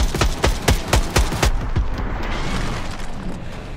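Rapid bursts of gunfire in Call of Duty: Black Ops 6, a string of sharp close shots for about a second and a half, then a rumbling, echoing tail with no further shots.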